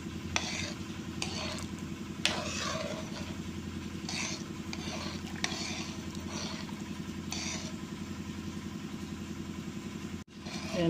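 Cracked corn being stirred in a pan while cooking, repeated scraping strokes of the utensil roughly every second over a steady low hum, fairly quiet, with no talking.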